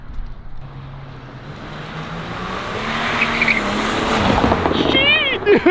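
A BMW Z3 2.8 with 90,000 miles revs and accelerates hard, its engine pitch climbing steadily, with tires squealing near the end; loud and close.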